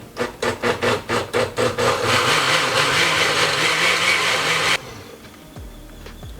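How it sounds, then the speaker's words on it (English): A blender whirs loudly through salsa verde seasoned with lime and kosher salt, starting in short rhythmic pulses that build into a steady continuous roar, then cutting off abruptly to a quieter lower hum. "And let's go ahead and give this a blend."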